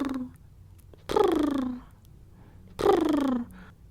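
A person imitates a cat purring with the voice, producing two separate drawn-out, buzzing purr-like rumbles, each lasting under a second, with quiet pauses between them.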